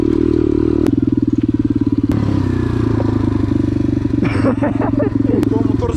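A Surron electric dirt bike is ridden through the city, with a steady close motor hum and whine under wind rumble, and clattering and scraping near the end; a person talks over it.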